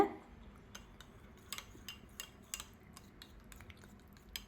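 Full cream being stirred with a spoon in a bowl for a homemade chocolate made with dates and pistachios, giving a series of light metallic clinks and taps against the dish, quiet and irregular.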